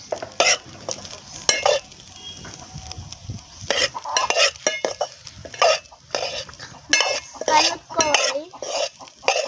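Food with masala and chilli powder is stirred in a pan, with repeated clattering scrapes of a spoon against metal in quick bursts over a soft background sizzle.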